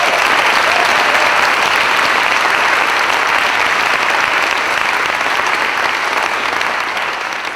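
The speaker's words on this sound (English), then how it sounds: "Let's give the women from Delta Sigma Theta another round of applause" An audience at a college convocation applauds the women from Delta Sigma Theta. The loud, sustained clapping is close and dense, then eases slightly toward the end.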